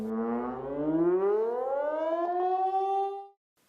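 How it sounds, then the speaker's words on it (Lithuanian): A civil defense warning siren sounds during a scheduled test of the public alert system in Vilnius, Lithuania, rising in pitch as it winds up and holding a loud, steady wail for about three seconds before cutting off abruptly. "bei 2 kartus per metus buvo atlikti perspėjimo sistemos patikrinimai, įjungiant garsinį sirenų signalą"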